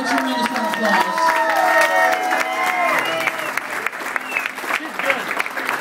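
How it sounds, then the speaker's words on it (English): Wedding reception guests burst into a loud, sustained round of applause that fills the room, with a few voices and cheers mixed into the dense clapping throughout. "Please give those people a tremendous round of applause"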